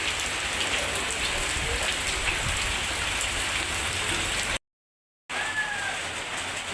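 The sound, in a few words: heavy rain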